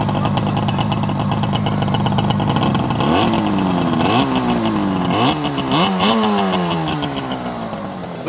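A 1968 Yamaha YCS1 180cc two-stroke motorcycle engine runs close by, first in a steady buzzy idle, then blipped through several rising and falling revs.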